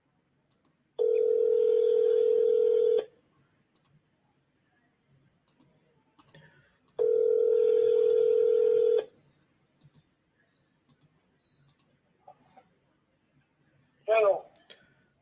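A phone call rings out twice with long, loud steady tones, each lasting about two seconds. Quiet clicks and short keypad taps fall between them, followed by a brief burst at the end that may be the line being picked up.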